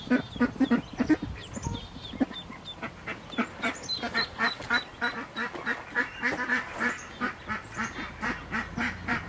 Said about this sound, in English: Mamas are coming out to check on all the ducklings, see?